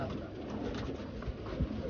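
Racing pigeons in a loft give faint, low cooing over a quiet background hum, with no talk.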